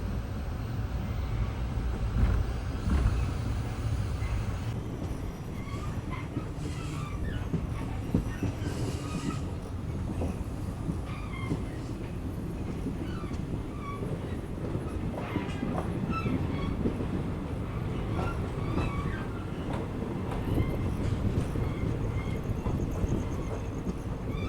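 The Talaguppa–Shivamogga–Mysuru Express pulls into Kumsi railway station, a continuous loud rumble of wheels on track with rhythmic clacking and occasional squeals, heard from on board throughout.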